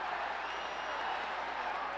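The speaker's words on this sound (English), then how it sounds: "The crowd is so loud." A loud crowd roars and cheers at a Pride FC fight event, a dense, continuous wash of noise with no breaks and no clear individual voices.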